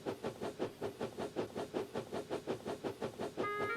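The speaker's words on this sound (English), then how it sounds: "Skarloey coupled up to the coaches and puffed away." A steam locomotive puffs away steadily after coupling to its coaches in a Halloween audio story, its rhythmic chuffs loud and even, with a brief whistle-like tone rising at the end and no voices.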